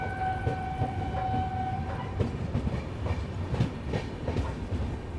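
The Garib Rath Express runs along the rails with a continuous rumble and rhythmic clicks of wheels over joints, heard from inside the train, with a brief tone early on.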